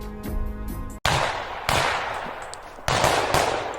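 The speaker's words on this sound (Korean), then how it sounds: "하얼빈역에서 울린 총성" Gunshots at Harbin Station in Manchuria, a few loud sharp reports spaced irregularly, each followed by a decaying echo.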